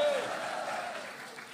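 A congregation applauds during a midweek church preaching service, a steady wash of many hands clapping together that stays fairly even and moderately loud across the moment, with a sustained voice or tone briefly heard at the start.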